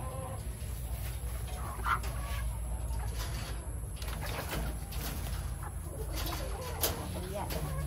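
Roosters and hens in battery-type breeding cages cluck and call in short, scattered bursts over a steady farmyard background, with a faint voice now and then.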